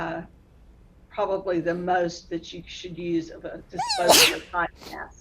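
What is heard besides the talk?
sneeze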